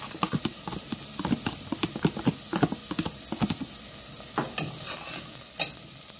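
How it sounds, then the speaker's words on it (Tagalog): Ingredients and garlic for sopas are sautéed in a pot. A steady sizzle runs under repeated rhythmic scraping and stirring taps, close and fairly loud. "Ayan, tumutunog-tunog na. Ayan yung mga sangkay. Hinagisa na siya."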